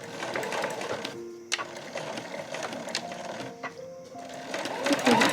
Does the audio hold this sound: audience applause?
no